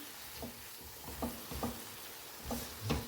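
Finely chopped tomatoes cook in a pan with spices such as chili powder and salt for a nacho cheese sauce, giving a soft steady sizzle broken by several light scraping, stirring taps.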